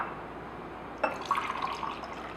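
Water soaked at pH 11.5 is dumped out of a container, a sudden splash followed by a brief, quiet pouring trickle.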